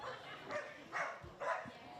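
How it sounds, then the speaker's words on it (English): A dog barks at a local football ground during a match pause, with about three sharp, evenly spaced barks at middle distance over low outdoor background noise. "There are a lot of dogs down here this morning."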